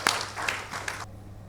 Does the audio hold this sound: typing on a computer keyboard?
no